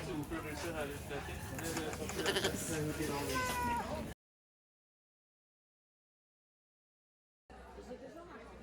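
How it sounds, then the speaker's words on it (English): Sheep at a fibre festival livestock exhibit bleat several times over crowd chatter, fairly close, before the sound drops out entirely and returns as background murmur. "Next, we visited the livestock exhibits. We found beautiful sheep"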